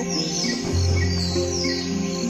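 Chirping and tweeting from a flock of birds in the Roblox game Feather Family, steady overlapping calls over a continuous game background without any talking.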